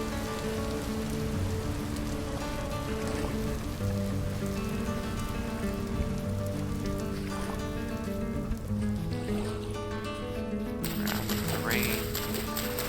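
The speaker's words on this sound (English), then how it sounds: "Rain." Steady rainfall in the video game Vintage Story, a continuous dense patter with rain on surfaces, layered under game music throughout and slightly brighter near the end.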